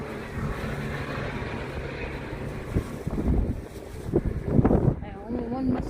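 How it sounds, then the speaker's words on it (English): Cold outdoor wind buffets the microphone in a steady broadband rush, with a voice and other faint sounds rising over it toward the end. "wind, it's cold."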